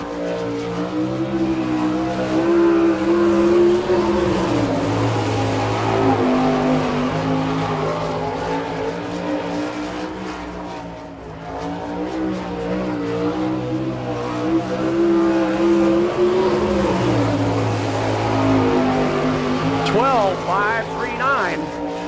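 Sprint cars roar around the dirt oval in an All Star Circuit of Champions Speedweek heat at Chillicothe, Ohio, engines rising and falling in loud, sustained waves as cars pass, with an announcer talking over the racing.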